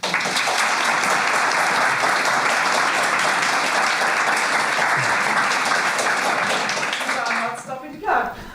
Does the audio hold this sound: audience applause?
yes